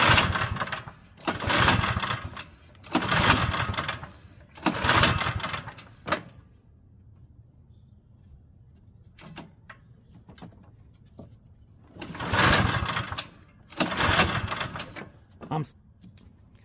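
A Craftsman snowblower engine runs rough while low on fuel, surging in loud sputtering bursts that fade out, with a quiet stretch and scattered clicks between them, nearby.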